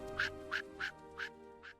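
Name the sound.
duck quacking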